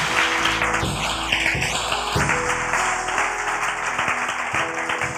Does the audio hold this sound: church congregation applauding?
yes